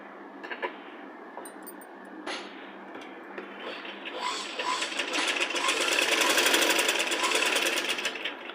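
A sewing machine stitches a children's Punjabi dress top, starting with a few short bursts and clicks, then settling into a steady, loud, rapid whirring run that swells and holds to the end.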